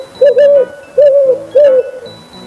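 An owl gives three drawn-out hoots in a steady, evenly spaced rhythm, each clear and fairly loud against a quiet background.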